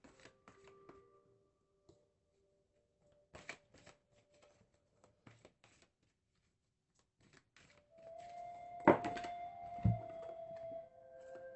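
A deck of tarot cards is handled and shuffled nearby with scattered soft riffles and taps, then a denser burst of shuffling and card slaps near the end.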